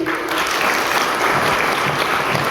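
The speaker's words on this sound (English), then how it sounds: "Clap for him." A classroom audience claps for a student, a dense, steady wash of applause filling the whole stretch at close range with no talk over it.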